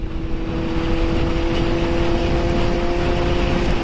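A Kawasaki Z motorcycle engine holds steady at about 9000 rpm while riding at 105 km/h in second gear, a loud, continuous, even drone with a strong fixed pitch and road and wind rumble underneath.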